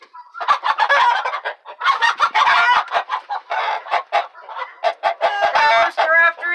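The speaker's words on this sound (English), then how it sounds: "A rooster after a chicken," A rooster chasing a hen while another rooster reacts, loud close clucking, squawking and crowing in rapid, agitated bursts, with no talk over it.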